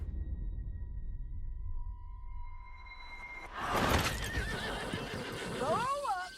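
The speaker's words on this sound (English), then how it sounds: "That new horse?" Horse neighing in the Western open-world game Red Dead Redemption 2, a loud, wavering whinny near the end, following clip-clop hooves and ambient game sounds under talk.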